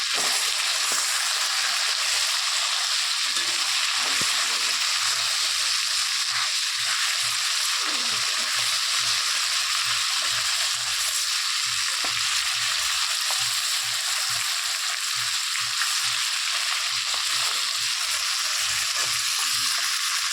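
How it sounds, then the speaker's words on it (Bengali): A fish head fries in oil with a loud, dense sizzle that runs on without a break, close up and with no voices. "মাছের মাথাটা আমি ভাজি বসিয়ে দিয়েছি মাথাটা ভাজি হয়ে যাক উপাস উপাস করে ভালোভাবে ভেজে নিই"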